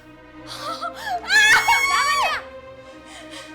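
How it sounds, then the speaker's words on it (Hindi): A woman screams in a shrill, wavering cry that swells loudly mid-clip, preceded and followed by softer whimpering sounds, in a horror-drama setting. "चिल्ला क्यों रही हो?"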